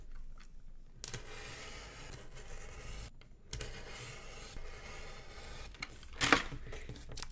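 Cardboard for a craft house is cut into strips, giving close, quiet scraping and rasping strokes with short pauses and a sharper crunch near the end.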